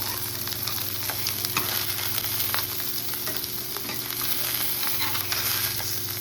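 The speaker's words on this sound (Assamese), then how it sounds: "যিখিনি ইয়াত তেল ওলাবলৈ লৈছে আৰু এইখিনি ৰুটিয়াই দিম" Boil fish, an oily fish, frying in hot oil in a pan while being stirred, a steady close sizzle with scraping and clinking of the spoon throughout, no talking.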